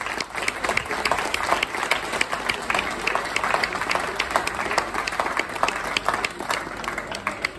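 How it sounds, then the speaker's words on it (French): Outdoor audience at a spring sardine festival in Saint-Gilles-Croix-de-Vie applauding, a sustained crackle of many hands clapping with scattered louder individual claps, crowd murmur underneath. "Merci pour la chaleur de vos applaudissements"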